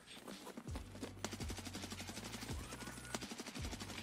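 Rapid automatic gunfire from the game Escape from Tarkov, rattling in quick bursts of sharp shots over a few seconds, fairly faint in the mix.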